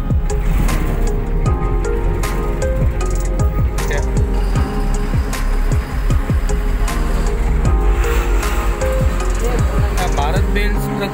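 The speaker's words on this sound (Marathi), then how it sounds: "भारत बेल्स ट्रकचा आवाज भाग असतो" Heavy trucks and other traffic roar past on the Mumbai-Goa highway in the Konkan hills, a loud continuous road rumble with repeated whooshing pass-bys and rattles, while a person talks over it.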